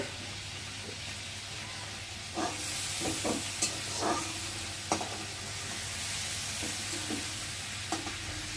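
Prawns fry in oil in a pan with a steady hiss, broken by scattered sharp crackles and spoon-scrape stirring knocks throughout. A low constant hum runs underneath.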